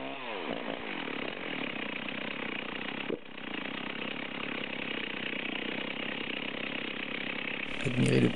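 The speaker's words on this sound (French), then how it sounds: "On pose la tronçon sur le buste et on rattaque le trait de scie." A Stihl chainsaw runs at a steady high roar as it bites back into a cut through a log resting on a stump, briefly dipping once before resuming its continuous whine.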